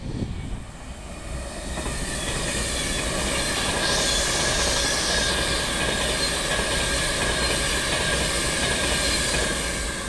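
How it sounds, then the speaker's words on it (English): Avanti West Coast passenger train 39128 City of Preston, running Glasgow Central to London Euston, passes through Crewe on the West Coast Main Line with a loud, sustained roar of wheels and rails, a high squeal and a steady rumble close by. "39128 City of Preston with an Avanti West Coast service from Glasgow Central to London Euston"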